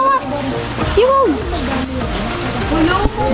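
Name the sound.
bird chirping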